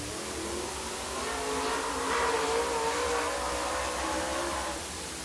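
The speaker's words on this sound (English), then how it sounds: "Number 24, Buster Goss in that Corn Tassel Bonding Company car." A super late model race car laps Dixie Speedway in Woodstock, Georgia, its engine roaring steadily as it swells nearer and then eases off, loud and alone without voices.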